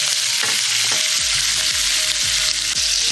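Butter and garlic sizzling loudly in a pan beside a ribeye steak, a constant hissing fry with a few soft clinks and stirring knocks.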